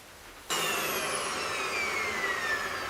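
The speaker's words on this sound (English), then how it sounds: "we're going to try and vacuum with that" A vacuum cleaner fitted with an upholstery tool switches on after half a second and runs loud and steady, a continuous whine with a slowly falling high pitch, no voices.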